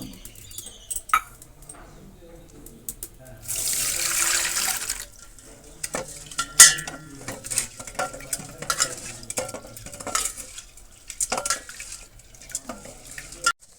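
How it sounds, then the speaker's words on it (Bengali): Masoor lentils are washed by hand in a large bowl of water, with soft swishing, sloshing and clinking of the vessel, a brief burst of pouring water near the start. "ডালটা আমি বড় জায়গায় তুলে নিচ্ছি ভালো করে রোগে ধুয়ে"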